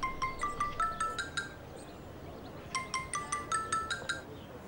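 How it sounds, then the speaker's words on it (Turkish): A telephone rings in two bursts of rapid, bright electronic trills separated by a brief pause, sounding clearly over low background hiss with no talking. "Telefonu çalıyor."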